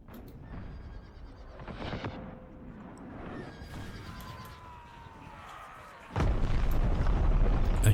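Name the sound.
cannon fire from artillery guns in the video game Empire: Total War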